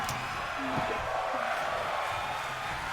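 Crowd at a pro wrestling match cheering, a broad steady roar with scattered shouts and whoops, moderately distant and continuous throughout.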